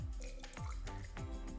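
Lime juice is poured for a margarita, giving a few soft, quiet drips and splashes at a slow rhythm against low background noise.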